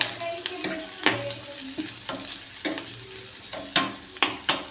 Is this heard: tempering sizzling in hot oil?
yes